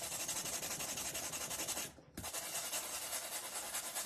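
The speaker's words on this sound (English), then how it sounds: "Oh yeah, I can sand it off." Steady close sanding of a mini pancake maker craft piece, a continuous abrasive rubbing with rapid back-and-forth strokes and one brief pause partway through.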